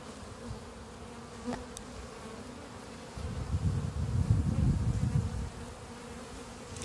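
Honeybees fanning their wings at the hive make a close, continuous buzzing hum that swells louder partway through, then eases back to a softer drone.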